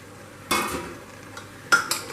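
Chopped tomato is stirred into foxtail millet khichdi in a pressure cooker, giving two sharp scraping, clattering strokes of a spoon against the metal pot over a quiet background.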